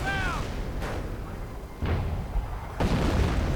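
A video game howitzer fires high-explosive rounds at a mortar team, with several heavy booming detonations in succession that rumble under continuous battlefield noise, one following a short tonal chirp.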